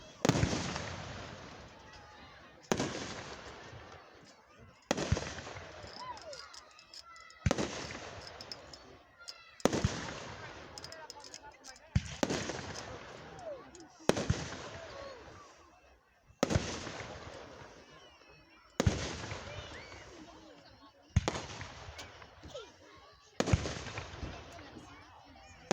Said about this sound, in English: Fireworks are going to be probably starting in the next about a minute or two.